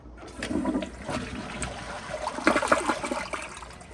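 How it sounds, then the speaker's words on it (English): A 2014 elongated Glacier Bay dual-flush toilet doing a half flush: a close rushing swirl of water that surges and gurgles over about four seconds, getting louder and splashier toward the end, with no talking. "here's the half flush"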